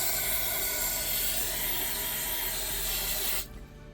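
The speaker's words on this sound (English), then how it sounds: "Just spraying a little bit of solvent up in there." A continuous aerosol spray of brake cleaner solvent onto a Briggs & Stratton Intek engine hisses close by for about three seconds, then cuts off abruptly.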